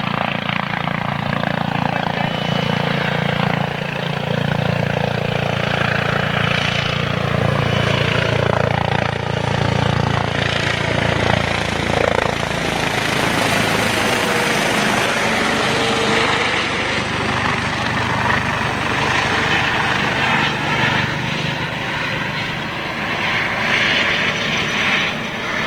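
A distant Airbus A330 or Boeing 787 Dreamliner jet at Toulouse gives off a continuous broad engine roar with a slowly shifting tone under outdoor background noise.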